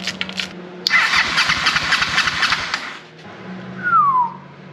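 An old Honda Shadow motorcycle engine cranks over during a cold compression test, a loud churning burst lasting about two seconds that stops abruptly, followed by a short rising whistle-like tone.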